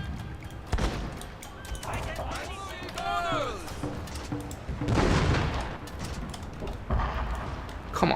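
Artillery firing solid shot in Fall of the Samurai, the Tosa campaign: scattered distant cannon reports and battle crackle mix with a busy battlefield and a talking voice.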